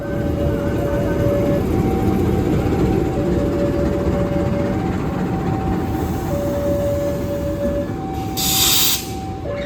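A damaged Blambangan Express locomotive, wrecked after a collision with a truck, rolls slowly nearby with a loud, steady rumble and hiss, a long sustained tone running through it and a brief spray of noise near the end.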